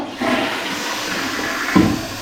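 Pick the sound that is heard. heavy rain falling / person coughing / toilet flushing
toilet flushing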